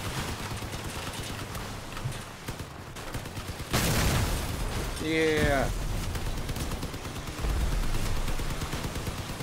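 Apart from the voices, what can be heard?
machine gun fire in the video game Crossout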